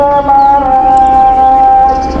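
Several 34-day-old meat chickens cluck and murmur close by in a steady drawn-out chorus, a layered tonal hum of fowl with no talking.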